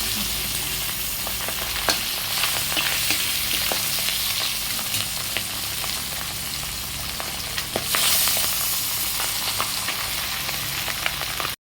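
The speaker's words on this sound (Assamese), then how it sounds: "এতিয়া মাছ ভাজি আছোঁ" Continuous sizzling and crackling of pabda fish frying in hot oil, with scattered sharp pops and spatters, steady and close.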